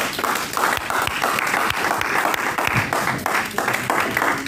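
A church congregation applauds steadily and loudly for several seconds, dense clapping filling the space throughout with no break.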